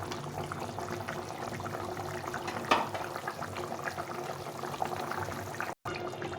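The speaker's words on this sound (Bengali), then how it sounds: "এই ঝোলটা হয়ে গেছে ফুটে গেছে" Rohu fish curry boiling in a pot gives a steady, close bubbling and sizzling hiss throughout, broken by a brief cut near the end.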